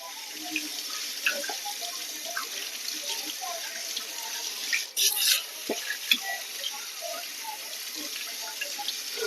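Water runs steadily from a tap into a sink while a hedgehog is bathed, with faint splashes and small clinks over the constant hiss.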